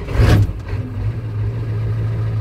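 Ford F250 with the 7.3 IDI diesel held at half throttle, starting without glow plugs, gives a steady low engine drone with a brief louder rumble at the start, running alone without talk.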